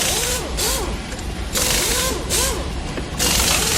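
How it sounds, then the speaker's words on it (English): Screws being backed out with a ratcheting tool during an installation, bursts of rapid clicking ratchet strokes alternating with brief pauses, close and fairly loud. "And then take out these screws."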